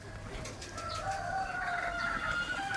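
A pigeon gives soft, low cooing calls, fairly faint against a quiet outdoor background, with the notes running together in a short continuous stretch.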